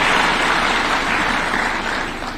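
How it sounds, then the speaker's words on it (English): An award-ceremony audience applauds the tree-planting institutions being honored, a dense, steady wash of many hands clapping that fills the room and slowly tapers toward the end, with no voices over it. "A round of applause for those institutions, please."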